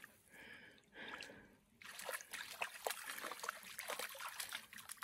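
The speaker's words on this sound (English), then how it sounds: "This is the first good water source we've come across since we came down off the peak." A trickling stream at a water source on a backpacking trail below a mountain peak, with water dribbling and splashing softly nearby, quiet at first and then steadier.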